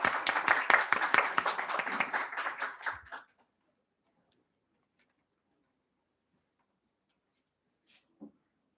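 Audience at an academic seminar on AI and the economy clapping for about three seconds, a brisk close burst of applause that stops abruptly, followed by near silence with a couple of faint knocks.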